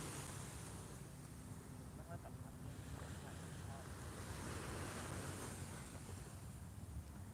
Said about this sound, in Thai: มานั่งอยู่บริเวณชายหาดจอมเทียนนี่แหละค่ะ